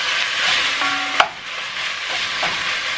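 Ground beef browning in a pan, a continuous soft sizzle and fry with a few sharp knocks and scrapes as a wooden spatula breaks it up.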